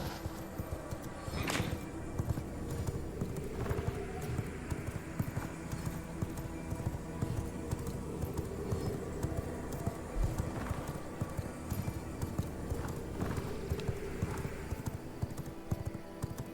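Horse hooves clop in a steady, rapid rhythm as a mount is ridden in the video game V Rising, with the galloping beat continuing throughout over faint background game sounds and an occasional snort.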